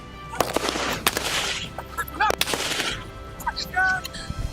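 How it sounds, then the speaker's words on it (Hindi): Sharp gunshot cracks ring out in irregular bursts at a BSF training center in Kharkan, Punjab, some close and loud, with bullets whistling overhead and a voice speaking in between. "ऊपर से तेज गोलियां सीटी मारती हुई जब निकलती हैं,"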